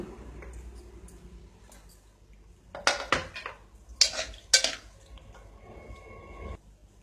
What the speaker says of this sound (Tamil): இப்போ குக்கரை ஓப்பன் பண்ணி பார்க்கலாம் மட்டன் நல்லா வெந்துருச்சான்னு